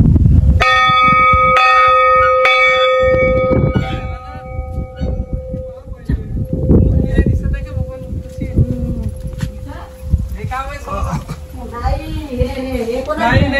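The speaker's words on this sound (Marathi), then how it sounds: "आता वाजवतो घंटा" A bell is struck several times in quick succession near the start, each ring leaving a long sustained tone that fades slowly. Children chatter and play around it, and their talk continues after the ringing dies away.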